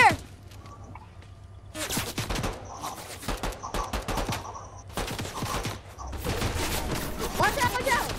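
Fortnite gunfire crackles in rapid bursts and sustained volleys, with some shots near and sharp and others more distant, starting and stopping in several clusters.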